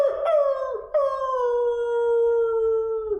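A voice imitates a sad wolf howl, sliding down in two short wavering cries and then one long, mournful held note, loud and close with no other sound.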